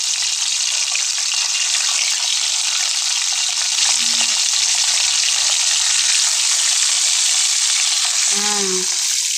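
Genjer water vegetable fries in a pan with a steady, loud, hissing sizzle throughout, with a brief soft clink of a utensil near the end and no talk.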